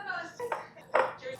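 Food for spaghetti meatballs being mixed by hand in a small bowl, with soft squelching and irregular clinks and knocks against the bowl, faint and close, with no talking.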